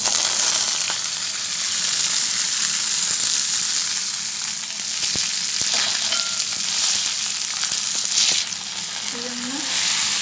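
Leaves for a medicinal ten-leaf thoran frying in a pan with dried red chillies, a loud, dense, steady sizzle close by with a few soft scrapes of stirring, no voices.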